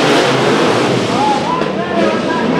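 Race cars at Chowchilla Speedway accelerate together toward the green flag in a heat race, a dense, steady engine roar with rising tones swelling in the middle, with an announcer talking over the din.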